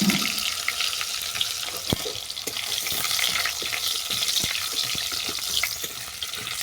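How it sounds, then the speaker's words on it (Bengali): Potatoes fry in hot oil seasoned with dried red chili, bay leaf and five-spice for a rohu fish and banana curry, giving a steady dense sizzle with scattered clicks of stirring against the pan; close and unaccompanied by speech. "আলুটাকে আমি ভালো করে ভেজে নেব"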